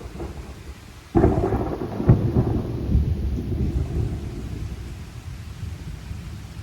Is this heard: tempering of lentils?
no